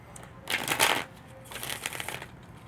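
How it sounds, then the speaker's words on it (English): Tarot cards are shuffled in two quick riffling bursts, close and crisp, with a short pause between them. "I'm going to shuffle 3 times"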